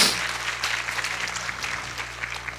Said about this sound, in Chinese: 幸福的台中人为自己鼓掌一下这样 OK。